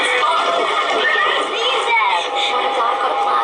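Horses whinny and neigh loudly in a dense, continuous blend, with a rising-and-falling call near the middle over steady crowd-like background noise.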